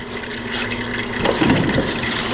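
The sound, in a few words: fluid draining out during Kubota compact tractor service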